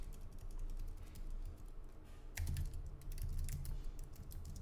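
Typing on a computer keyboard, a steady run of close clicking keystrokes that grows a little louder and busier partway through, with no talking.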